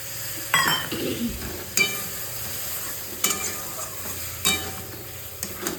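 Fried potatoes being sautéed in a pan, with a soft sizzle under regular metallic clinks and scrapes from a spoon stirring. The strokes come roughly every second and a half, close by.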